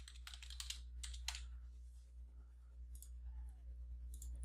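A username and password are typed on a computer keyboard in quick clusters of close, crisp key clicks, with a short pause in the middle and a steady low hum underneath.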